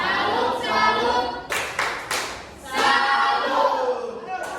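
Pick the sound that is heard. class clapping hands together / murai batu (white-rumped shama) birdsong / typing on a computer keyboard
class clapping hands together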